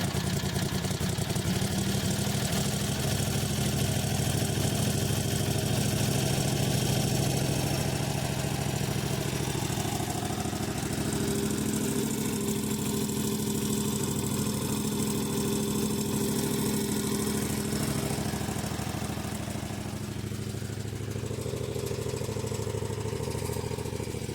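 A buggy engine runs steadily after a cold start on full choke, a loud, close, continuous idle rumble that holds for the whole stretch with a slight drop in level near the end.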